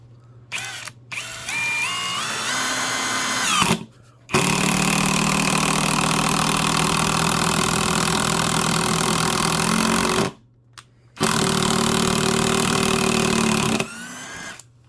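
A DCK brushless impact driver sinking screws: high whine while spinning up, then long loud rapid hammering impacts in two bursts separated by brief silences, close and alone.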